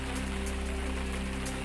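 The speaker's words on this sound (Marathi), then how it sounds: "यवतमाळ जिल्ह्यात जोरदार पाऊस।" Heavy monsoon rain in Yavatmal district, Maharashtra, falling on flooded fields; a dense, unbroken hiss of rain on surfaces, steady and loud throughout with a low constant hum beneath.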